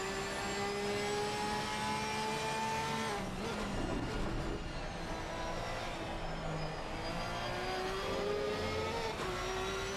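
GT3 race cars lapping Mount Panorama in Assetto Corsa Competizione during a rainy day race, with a steady, loud engine drone and rising and falling gear-shift pitches, several cars' engines layered together with a faint commentator voice beneath.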